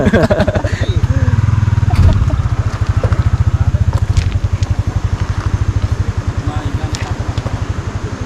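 A motorcycle engine runs close by on a river ride, its steady, fast pulsing putter rising briefly and then settling into an even idle-like beat, with people talking over it.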